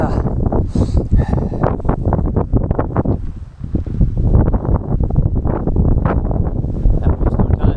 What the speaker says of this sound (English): It's really windy, but it's fine. Really windy,